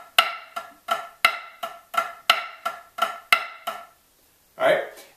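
Snare drum playing a flam accent grid pattern, a steady run of about ten crisp strokes with grace-note flams and accents, close and dry, followed by a short pause and a brief spoken word.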